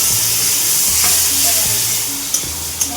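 Spice paste loosened with water hits a hot frying pan, giving a loud steady sizzle with a couple of small sharp clicks near the end.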